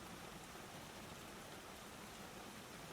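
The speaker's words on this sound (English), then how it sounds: "The garden outside was blurred by the downpour" A heavy, steady downpour falls on a garden outside a greenhouse, making a dense, even hiss that stays constant the whole time with no other sounds.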